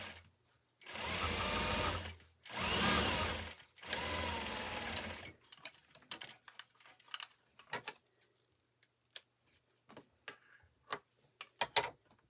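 A sewing machine stitches sleeves in three loud, steady running bursts, followed by scattered soft ticks and clicks of fabric handling and the machine at rest.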